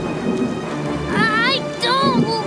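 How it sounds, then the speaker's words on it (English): Thunder rumbles through a cartoon rainstorm, a loud, steady roar with rain that runs the whole way, while a cartoon character's voice speaks and exclaims over it. "I don't like thunder."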